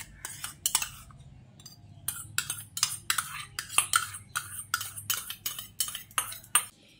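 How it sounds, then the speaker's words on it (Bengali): A hand beater mixes semolina batter with powdered sugar and sour yogurt in a bowl, giving a rhythmic run of sharp metallic clinks and scrapes, close and fairly loud, repeating roughly every half second with no talking. "এবার আমি সব কিছুকে একসঙ্গে একটা হ্যান্ড বিটারের সাহায্যে ভালো করে মিশিয়ে নিচ্ছি।"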